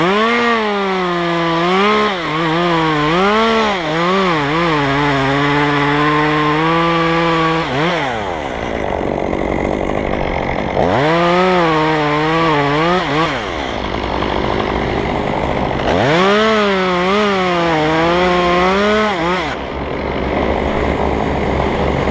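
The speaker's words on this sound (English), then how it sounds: "This one I'm going to go for a regular notch and back cut." A chainsaw cutting a notch and back cut in a tree during bucket-truck rigging work, loud and close, revving up and settling again in three long bursts with brief lulls between.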